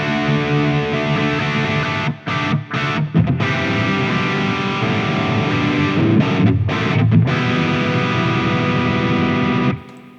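An electric guitar with hot pickups plays through a Zoom 505 effects processor set to overdrive distortion with reverb, giving sustained, saturated chords with a few brief pauses before the notes cut off near the end.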